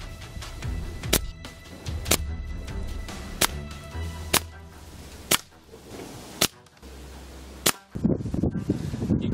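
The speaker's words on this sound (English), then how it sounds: "So I aim back at the screen now and start shooting at it." Air rifle shooting at a laptop, about eight sharp, loud cracks spaced roughly a second apart over a rumbling background, with no talking.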